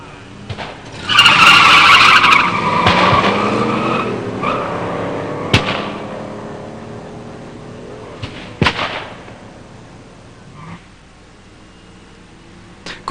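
A 1969 Cougar Eliminator with a 351 automatic and a 1972 Mustang with a 351 four-speed launch at a stock-class drag race, roaring engines and screeching tires rising to a loud burst, then fading into the distance with scattered sharp bangs.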